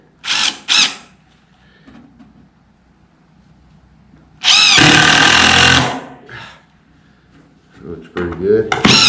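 A power drill drives screws into a wooden rabbit nesting box in a few loud, close bursts of whining motor, one short, one longer and sustained, and one near the end, with a voice talking in the pauses.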